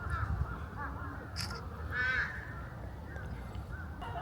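A crow in a Tokyo park gives one harsh caw at moderate distance over a low outdoor rumble, with a brief faint sound just before it.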